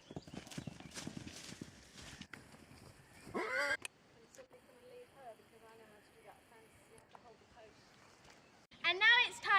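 A horse whinnies in a field, with hoof clip-clop and other horse calls; several short neighs come through, the loudest burst near the end, fairly close and otherwise unaccompanied.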